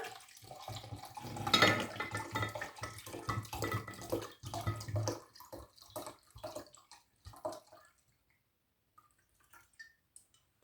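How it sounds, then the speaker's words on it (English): Half a litre of gin poured into a container over sugar for sloe gin, a splashing, gurgling liquid pour that runs steadily for several seconds, then tapers off into near silence with a few faint drips. "So let's get the gin in."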